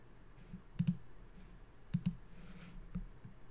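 A computer mouse clicks quietly at a desk in a few quick double clicks spaced about a second apart, close but faint against a soft room hush.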